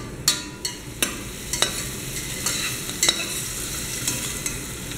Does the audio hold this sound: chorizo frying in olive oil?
yes